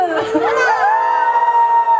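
Fans at a K-pop girl group's mini fan meeting on a TV music show cheer and shout together, a loud close burst of high voices that settles into a sustained tonal scream.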